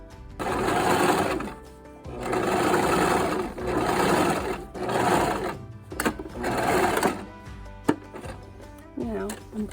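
A sewing machine stitches a hem on overalls in several bursts of steady whirring, stopping and starting as the fabric is slowly guided along, with brief pauses and a few soft thunks between runs.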